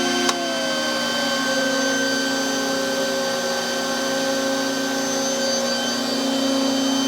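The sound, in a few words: aircraft 400 Hz three-phase frequency converter running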